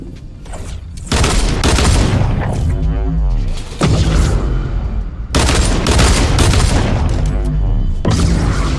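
Loud, dense gunfire blasts at a vending machine in Fortnite, with sustained bursts of shots and impacts filling most of the stretch, broken by two brief pauses.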